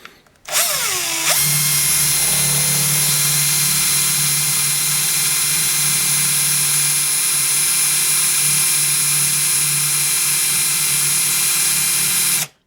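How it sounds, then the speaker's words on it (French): A titanium-coated (TiN) HSS step drill bit run in reverse rotation spins up quickly to a loud, sustained whine with a steady, bright tone, holds it without pause, and cuts off at the end. "Je vais le mettre en rotation anti-horaire. Parce que normalement il est censé forer dans les deux sens vu l'usinage de la mèche."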